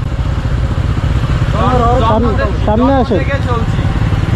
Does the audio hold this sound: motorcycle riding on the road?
yes